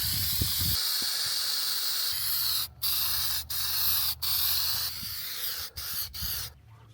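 Aerosol can of Plasti Dip spraying rubber coating in close, loud hissing bursts, several sprays of varying length broken by short pauses, with a faint hum beneath.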